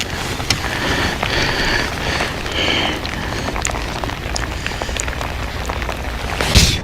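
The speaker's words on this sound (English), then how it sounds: "Hopefully we can get some breaks in this rain" Rain falling on Chickamauga Lake during bass fishing from a boat, a steady close patter of drops with occasional sharp taps and a louder knock at the end.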